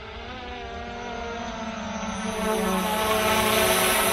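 A Visuo K3 drone flies nearby, its propellers giving a steady, loud buzzing whine with layered tones that grows a little louder partway through.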